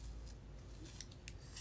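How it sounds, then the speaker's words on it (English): Scissors snip through the lace front of a braided wig, a few faint, quick close-up cuts over a low background hum. "let me cut this lace."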